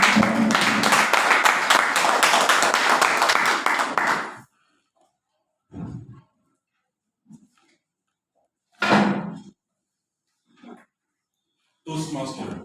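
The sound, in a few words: audience applause welcoming a speaker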